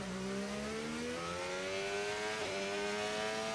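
A Formula 1 race car engine in the F1 25 racing game revs up to its limiter, the tone climbing steadily and then catching with a brief stutter before holding high. The whine is continuous and alone, with no voices.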